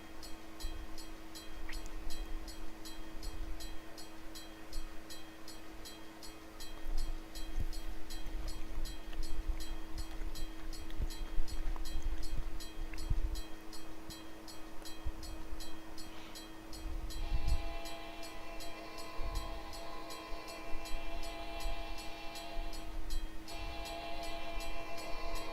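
A train passes a level crossing in the Trainz railroad simulator game, with a steady rumble of rolling wagons, crossing bells ringing throughout, and a horn sounding in the latter half.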